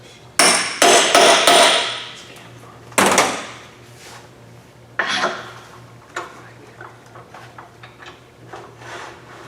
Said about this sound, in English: I wouldn't hit it with a hammer like this.